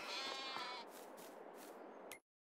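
Sheep in a Farming Simulator 22 game give a single drawn-out bleat, clear and close, then the sound cuts off abruptly.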